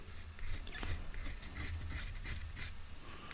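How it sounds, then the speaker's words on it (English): 600 grit sandpaper rubs in quick, steady back-and-forth strokes against a small plastic Chaos Space Marine model part, a close, quiet rasping with no talking. "Just using 600 grit sandpaper."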